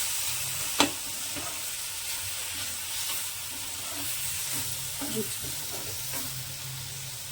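Paneer with green chili and turmeric is stirred and fried in a pan, giving a steady close sizzle with soft scraping strokes and an early sharp clack of the utensil.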